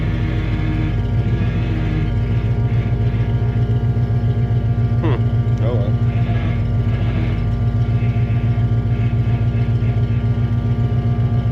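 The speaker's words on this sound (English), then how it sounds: "we may have burnt the power steering pump up" A Foxbody Mustang engine runs steadily with a burnt-out, damaged power steering pump, a loud continuous rumbling drone with a faint whine on top, while a voice speaks briefly over it.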